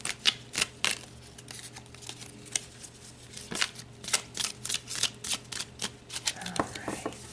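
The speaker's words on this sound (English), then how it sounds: "If I could shuffle." A deck of cards is shuffled by hand, crisp riffling bursts and snaps recurring in quick irregular runs, close and clear, with brief quiet gaps between passes.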